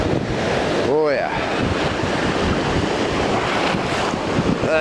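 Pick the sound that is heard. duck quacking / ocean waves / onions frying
ocean waves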